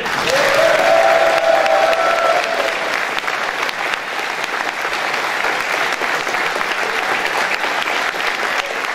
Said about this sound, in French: j'aimerais un gros tonnerre d'applaudissements pour l'administration